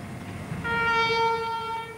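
A train sounds a long, loud horn blast that starts suddenly over low rumbling and holds steady for over a second.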